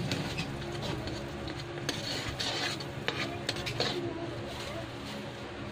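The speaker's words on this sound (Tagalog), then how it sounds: "Ilalagay na natin yung star margarine. Tunawin muna natin." Star margarine melting and being stirred in a hot pan for butter garlic seafood, a steady soft scraping and sizzling hiss with faint clinks of utensil against metal throughout.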